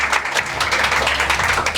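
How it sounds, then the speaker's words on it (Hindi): Audience at a coaching institute's annual function clapping for four students, a steady dense applause that holds evenly at close range for the whole short stretch. "एक बार जोरदार तालियां हो जाए इन चारों के लिए।"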